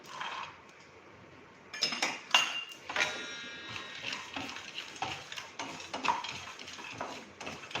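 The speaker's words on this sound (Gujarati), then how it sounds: "હવે એમાં નાખીશું આપણે 2 ચમચી તલ લીધા છે એ ઉમેરીશું" Sesame seeds tipped into a pan to roast with peanuts for a stuffed onion curry, a brief rattling scatter followed by spoon scraping and stirring with soft clinks against the metal, close and moderately quiet.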